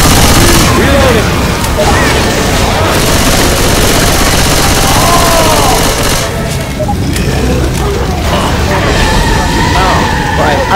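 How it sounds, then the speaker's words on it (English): Relentless gunfire from Left 4 Dead 2 as players shoot at zombies: dense, loud volleys and booming shots pile up continuously, with voices shouting over the chaos. "You're only shooting me, you're shooting the zombies!"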